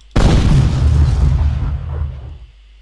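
A single loud, deep video game explosion sound effect booms suddenly, then rumbles and fades out over a couple of seconds.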